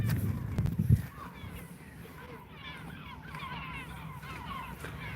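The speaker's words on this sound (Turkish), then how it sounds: "Bakın martılar geldi." Seagulls call in a series of repeated, fairly distant squawks on a street in Sinop, following a short burst of low rumbling.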